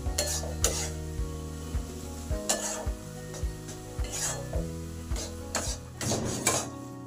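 Coconut filling for Bengali pati sapta pitha is stirred in a pan over low-to-medium gas, with a steady soft sizzle and repeated scraping, knocking strokes of the spoon against the pan throughout.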